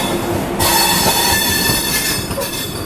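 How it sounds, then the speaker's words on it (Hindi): A 16-coach Vande Bharat Express passenger train passing close by, a loud continuous rumble of wheels on rail with squealing and metallic tones, the roar jumping up sharply after the first half second and holding steady. "16 कोचर वंदे भारत एक्सप्रेस"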